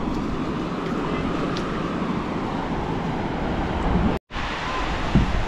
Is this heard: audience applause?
no